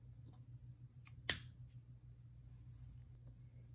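A single quick snip of scissors trims a crochet yarn end on an amigurumi piece, a sharp close click against a faint background hum.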